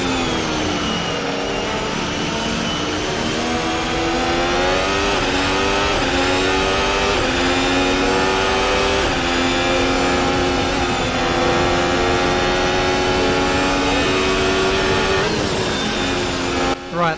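Engine of an F1 2021 race car in a racing video game revving continuously and loudly through gear changes on a tight technical circuit, a dense harmonic whine rising and falling for the whole stretch with no talk over it.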